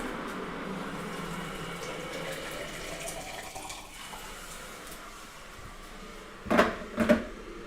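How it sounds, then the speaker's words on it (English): An electric kettle hissing: a soft, steady hiss that fades slowly, followed by two sharp clunks near the end. "It's still hissing. I don't even think that's the water anymore."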